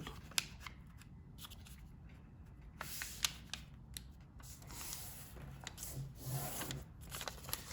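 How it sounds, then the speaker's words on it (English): Paper being creased and folded by hand into an origami crane bookmark, with quiet, close crinkles, rubs and sharp creasing snaps at an irregular rhythm, no talking. "we're going to also make another fold the long direction, and also as a mountain fold"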